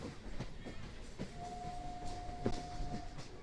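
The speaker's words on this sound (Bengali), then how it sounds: "চার নম্বরে গাড়ি ঢুকছে" A local train on the Sealdah–Baruipur line pulls into a platform at Baruipur station, a faint rumble and rattle of the cars with a thin, sustained squeal partway through, heard from a distance.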